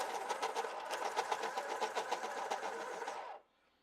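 A colored pencil is ground in a sharpener, a steady buzzing whir with a rapid rhythmic grind that runs about three seconds and then cuts off abruptly into quiet, with no talking.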